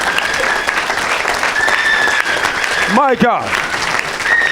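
A worship congregation applauds and cheers for Jesus in a church service, steady loud clapping and crowd noise throughout while someone speaks excitedly over it.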